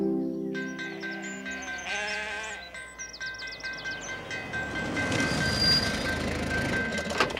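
Several sheep bleat in a cartoon scene at a railway crossing, a wavering chorus of calls over music and a rising rumble of a passing train.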